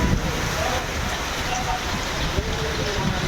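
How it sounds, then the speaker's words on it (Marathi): Heavy rain and strong wind between Dahanu and Valsad: steady, dense rain roars with gusting wind over it, a constant loud wash of noise with no breaks. "बघा वारा पाऊस येतात तुम्ही बघा किती जोरात वारा वाहतात"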